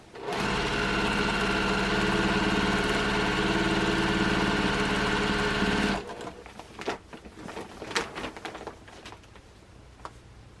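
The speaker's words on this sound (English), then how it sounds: "I'm sewing the trunk on" Steady high-speed whir of a sewing machine stitching a paper-pieced elephant's trunk onto a quilt, running loud and continuous for about six seconds before stopping, then quiet rustling and handling of fabric.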